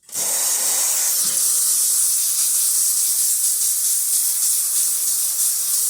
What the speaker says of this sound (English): So let's test the hot water or the steam first.